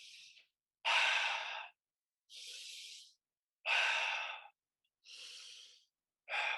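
Slow, deep breaths during a chakra breathwork exercise, long airy inhales and exhales alternating in a steady rhythm with brief pauses between, close and fairly soft, no talking.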